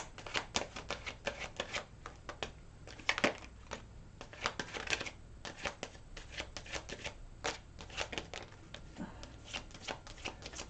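Repeated riffling bursts of a tarot deck being shuffled, crisp papery flutters in quick rhythmic runs, close up with no voices.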